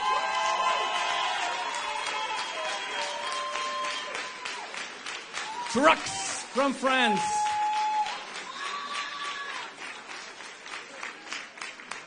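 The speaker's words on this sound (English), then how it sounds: "A big round of applause for the winners." A crowd at an international band contest final applauds the winners, continuous clapping and cheering under music and a speaking voice, fading in the last seconds.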